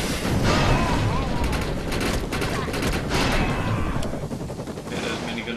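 An enemy minigunner firing a minigun in the video game Defiance, a loud, dense, continuous roar of rapid fire that runs for several seconds, with booming impacts mixed in and then easing slightly near the end.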